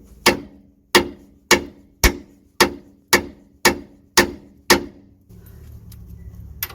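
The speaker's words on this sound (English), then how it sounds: "you need to hit this area with the hammer" A hammer strikes the lower suspension arm of a Ford Transit to free the ball joint, nine sharp metallic blows at a steady rhythm, loud and close, followed by quieter rustling.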